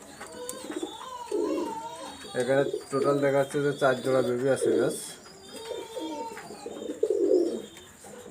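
Teddy pigeons in a loft give soft, low cooing in a few rounded bursts, close by, while someone talks over them in Bengali.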